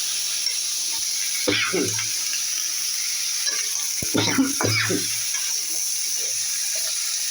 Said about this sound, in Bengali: প্রথমে পেঁয়াজ পেঁয়াজ রসুন মরিচ তেলে দিয়ে ভালো করে হালকা করে একটু সিদ্ধ করে নিয়েছি তারপরে মিষ্টি কুমড়া দিয়ে দিয়েছি